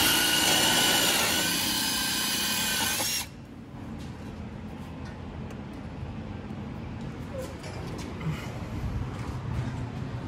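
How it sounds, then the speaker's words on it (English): A loud, high-pitched power drill whines for about three seconds drilling pilot holes to mount a car side splitter, then cuts off, leaving quieter background noise with faint handling sounds. "we're drilling pilot holes"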